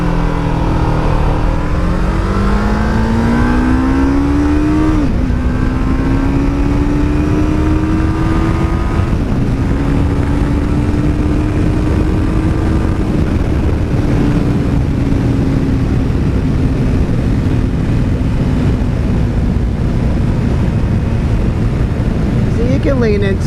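A 1991 Kawasaki EX500 motorcycle engine pulls hard in second gear, its rising whine climbing and shifting up several times over loud, steady wind rush heard from the rider's position.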